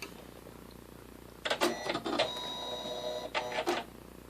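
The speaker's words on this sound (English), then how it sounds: "Now I'm going to turn my machine off and turn it back on." A Janome Skyline S7 computerized sewing machine powers off and on, giving soft clicks followed by a short whirring mechanical reset and a steady electronic tone before final clicks, close and alone.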